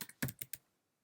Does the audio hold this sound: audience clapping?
no